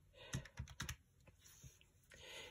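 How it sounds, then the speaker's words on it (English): Calculator keys being pressed one after another in quick, uneven taps, several close together and then a few spaced out, fairly faint and close with no talking. "Let's take our calculator and write 142"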